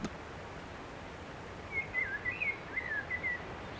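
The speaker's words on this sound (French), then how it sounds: "on est en pleine nature. Les oiseaux chantent, il fait beau." Birds sing outdoors in open countryside, a faint run of high chirps and trills in the second half over a steady hiss of wind and rustling.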